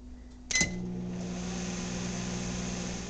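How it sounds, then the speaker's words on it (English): A microwave oven heating a dish of beans: a short beep or door clunk, then a steady, quiet low hum that runs on without change. "I'm going to pop my beans into the microwave, and I think I'm going to microwave them for about a minute"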